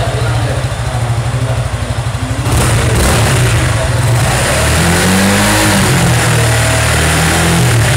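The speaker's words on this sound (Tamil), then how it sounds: "இந்த வண்டியோட எக்ஸாஸ்ட் சவுண்ட் செக் பண்ணலாம் வாங்க." A 2021 Suzuki Gixxer SF 150 motorcycle's 155 cc single-cylinder four-stroke engine idles with a rapid putter, then revs up loudly and holds a rough, throaty roar through the exhaust.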